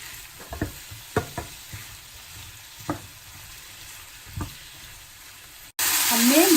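Chopped tomatoes sizzling in a pan for mutton masala over a medium-low flame, a steady fry with occasional stirring clicks and scrapes, ending in a louder burst of sizzle.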